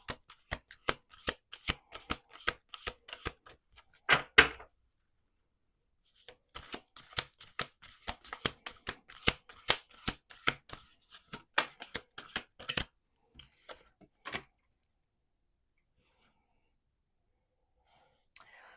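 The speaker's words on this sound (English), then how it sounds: "Two more shuffles." Bursts of cards being riffled and shuffled, repeated in quick flurries with pauses between, close and crisp, with soft whispering in places.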